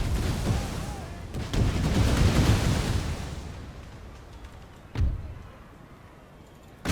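Artillery barrage in the game Empire Total War, dense rumbling cannon fire and booms rolling together into a loud wash that fades, then a sharper blast, with someone talking over it.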